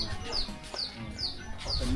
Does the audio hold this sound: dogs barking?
no